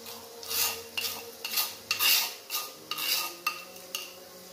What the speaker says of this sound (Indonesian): Kita aduk sampai berubah warnanya, sampai wangi.